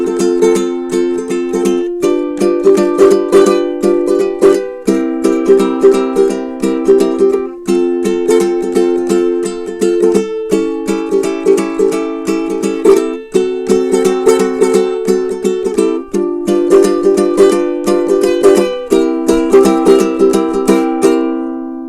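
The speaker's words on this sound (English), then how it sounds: "So that's the sound of the concert size Cordoba ukulele." Concert-size Cordoba mahogany ukulele with an abalone inlay around the sound hole, strummed steadily through a chord progression, bright and close, with rhythmic strokes and chord changes every couple of seconds and no talking.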